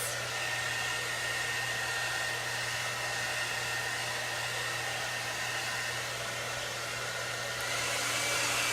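A hair dryer blows steadily at close range, a loud continuous whooshing roar with a low motor hum underneath and no talking.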